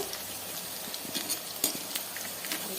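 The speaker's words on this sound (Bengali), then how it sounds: "পকোড়াগুলো এক একে ছেড়ে দিই তো বন্ধুরা যে পকোড়াগুলোকে এভাবে উল্টে পাল্টে নিব" Chicken pakoras fry in hot oil, a soft, steady sizzle and crackle heard close up with a few light stirring taps, fairly quiet overall and without speech.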